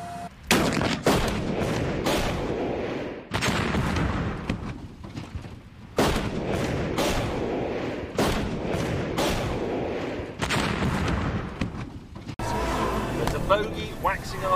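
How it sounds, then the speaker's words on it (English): Loud gunshots fired at a car's petrol tank come in separate heavy bursts with brief pauses between, booming and close, while people talk over and between the shots. "Shooting his petrol tank."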